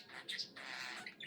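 A pet budgie parakeet gives a few short, high, scratchy squawks and chirps close by, in quick bursts at a modest level, with faint background noise between them.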